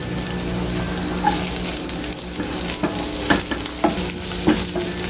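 Onion, garlic and ginger sautéing in a pan, a continuous close sizzle broken by repeated scraping strokes and clicks of a utensil against the metal, with no one speaking.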